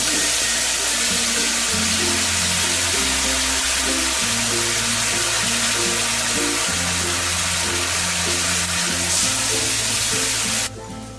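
Ground spice paste sizzles loudly and steadily in hot oil with cumin and cardamom, a dense, close hiss that carries on without a break and cuts off near the end.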